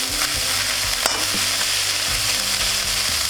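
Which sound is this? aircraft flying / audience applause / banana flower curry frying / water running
banana flower curry frying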